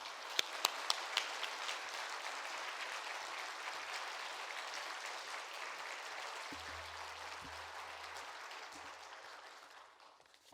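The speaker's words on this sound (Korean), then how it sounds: "박수로 환영하도록 하겠습니다" Congregation applause at a church weekday-evening service welcoming a guest speaker, steady dense clapping that fills the room for about ten seconds before gradually tapering off, with no talking over it.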